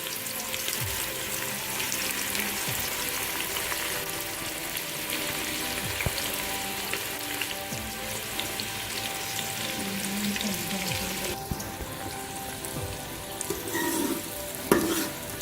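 Sliced onions sizzle steadily in hot oil in a pan for aloo baingan sabzi, a continuous fizzing fry with occasional stirring clinks and scrapes, close and moderately loud.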